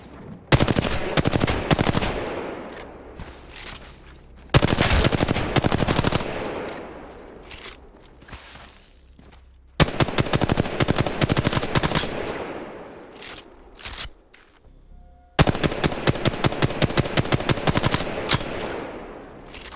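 Machine gun fire in the video game Apex Legends comes in four long, loud bursts of rapid shots, each separated by a short pause.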